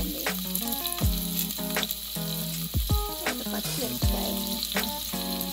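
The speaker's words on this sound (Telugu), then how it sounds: "ఆనియన్ వేయండి. ఆనియన్ ఫ్రై చేయండి." Chopped onion frying in a pan for kheema, a steady close sizzle interrupted by repeated scraping stirs and clinks of a utensil against the pan, with no speech.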